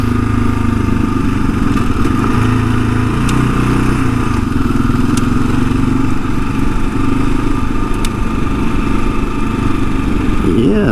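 A 2022 Kawasaki KLR 650 adventure motorcycle rides along a dirt road, its single-cylinder engine droning loud and steady up close with faint wind and clatter throughout.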